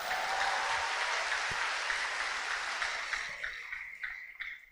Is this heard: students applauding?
yes